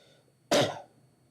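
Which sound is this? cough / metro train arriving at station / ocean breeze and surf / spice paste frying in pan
cough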